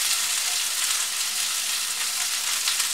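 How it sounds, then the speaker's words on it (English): Asparagus stir-fries in a hot pan, producing a loud, continuous hissing sizzle that stays even and close throughout with no voices. "Fry it for a while."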